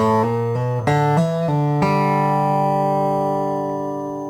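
A bluegrass G run is played slowly and deliberately on guitar, a short sequence of distinct picked notes walking up and ending on a ringing final note that sustains and fades, heard alone.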